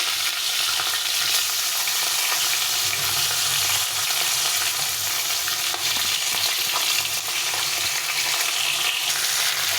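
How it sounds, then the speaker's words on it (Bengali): Fish head frying in oil in a home kitchen, a steady loud sizzle and crackle that runs unbroken, with no talk. "বাকি মাছগুলো আমি আর কিছুটা তেল দিয়ে ভেজে নেব। এখানে আছে মুড়োটা, মুড়োটা ভাজবো।"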